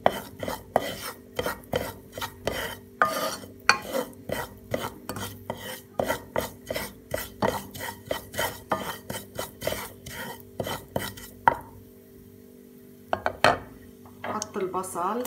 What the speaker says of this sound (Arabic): منقلي المردكوش حوالي نص دقيقة بهيدا الشكل